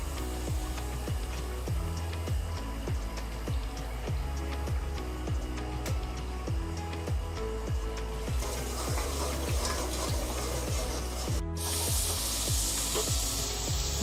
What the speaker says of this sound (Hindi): हल्का सा फ्राई कर लें 4-5 मिनट के लिए